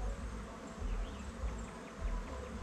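Steady buzzing of many honeybees close by at an apiary, a dense droning hum that swells and eases slightly, with no voices.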